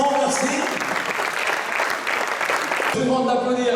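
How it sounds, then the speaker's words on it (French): An audience at a French club's jersey-presentation event applauds, a dense burst of clapping lasting a few seconds before a voice speaks over a public address. "Je demande d'applaudir la numéro 66, Lindsay Purley."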